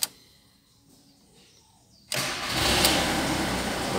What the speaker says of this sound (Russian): турбодизель. Заводится хорошо.